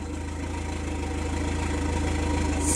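A VW MK4 Jetta with the 2.0 engine held at wide open throttle on a rev limiter setup, giving a steady, loud, close engine drone with a fast rhythmic pulse that holds level throughout, with no talk.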